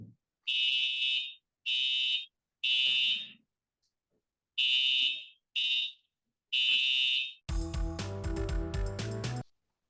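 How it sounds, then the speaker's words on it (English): A fire alarm sounds in a courtroom with six loud, sharp electronic beeps in uneven bursts, then a harsh, dense blast of noise at the end. The alarm is close and there is no speech. "we have a fire alarm"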